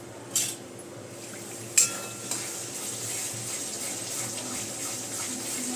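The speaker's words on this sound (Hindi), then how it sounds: "अभी धीमी आंच पे इसको स्लो आंच पे भूनेंगे" Aaru wadi masala roasting in a pan on a low flame gives a steady, soft hiss throughout, with a few sharp clinks of a utensil near the start.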